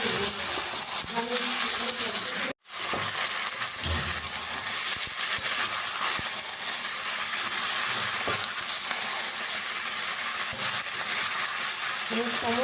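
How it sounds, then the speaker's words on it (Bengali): Drumstick stalks and shrimp sauté with salt, turmeric, sugar, cumin and tomato for chingri sajne data chorchori, giving a steady close sizzle and frying hiss with occasional stirring, broken by one brief silent gap. "সমস্ত মশলা দিয়ে ডাঁটাটাকে ভালো করে কষিয়ে নেব"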